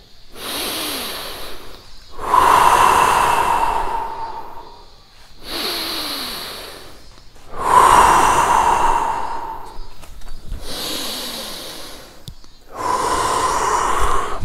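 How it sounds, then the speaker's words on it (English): Deep, forceful breathing exercise: three loud cycles of long inhalations and exhalations, alternating with brief pauses, close and alone. "For 1 minute, start breathing."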